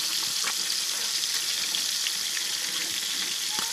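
Fish frying in hot oil, a freshly caught tilapia, gives a steady close sizzle with crackles and small pops running without a break. Nobody speaks.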